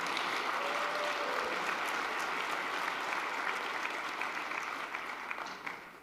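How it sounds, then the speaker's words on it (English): Round of applause from a conference audience at the Reservation Economic Summit honoring executive committee members, steady and moderately distant, tapering off toward the end. "Please give them a round of applause."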